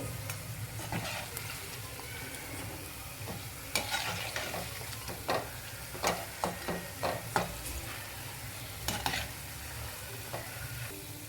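Rasam vada fry in oil until golden brown, a soft continuous sizzle broken by a series of sharp clinks and stirring knocks, heard close and fairly quiet.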